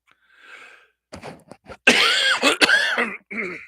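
A person coughs several times up close, harsh and throaty bursts following a softer breathy sound at the start.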